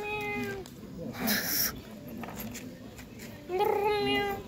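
A pet cat meows twice, drawn-out and fairly close, once at the start and again near the end, with people chatting and rustling around it in a room.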